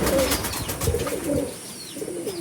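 Pigeons cooing in a house, their low, throaty calls repeating in several close phrases against a steady background hum, with no talking.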